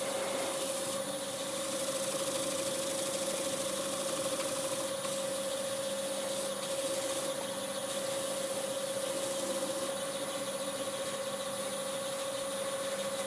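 Wood lathe motor turning at 750 RPM during wood turning, a steady, even hum with a constant tone running throughout at moderate volume, no talking.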